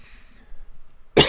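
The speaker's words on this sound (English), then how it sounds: "Freaking coughing like crazy here." A single harsh, close cough bursts out loud after a moment of near silence, preceded by faint murmuring.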